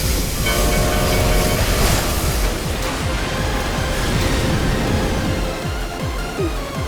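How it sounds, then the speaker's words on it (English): Train passing in the video game Final Fantasy XIV, a loud, close rumble of screeching metal and rapid rhythmic wheel clatter that continues steadily throughout, with no talk. "Here comes the train."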